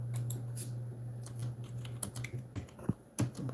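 Typing on a computer keyboard, irregular bursts of close, crisp key clicks at a quiet level over a steady low hum, with no talking.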